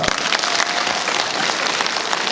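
A concert crowd applauds, a dense wash of clapping filling the hall briefly and evenly.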